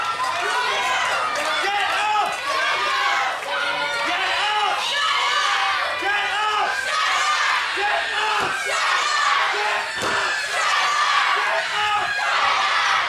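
Crowd at a professional wrestling tables match roaring and shouting continuously, dense and close, with a commentator talking over it.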